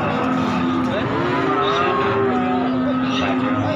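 Simmental and Limousin cattle at a livestock market low loudly and close by, long drawn-out moos overlapping against a busy background din.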